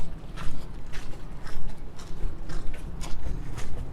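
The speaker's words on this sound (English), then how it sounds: "You can hear our feet scrapping away" Feet scraping and shuffling over gritty ground on a walk along Olympian Way on the Greenwich Peninsula, a steady series of rough scuffs close by, with no talk.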